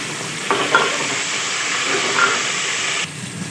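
Tomatoes with garlic-ginger paste fry in a pan for sarson ka saag, making a broad, even hiss that starts abruptly, holds steadily for a few seconds, then cuts off.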